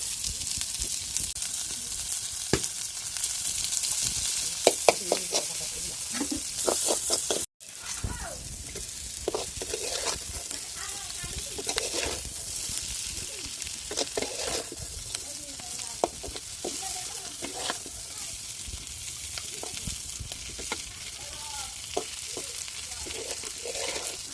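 Fish fries with sliced onions and green chillies for a do-piyaza, a steady loud sizzle and hiss in hot oil broken by scraping stirs and occasional clatter, close up with no talking.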